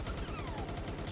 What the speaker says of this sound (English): he carries a submachine gun, and I can just walk around shooting other creatures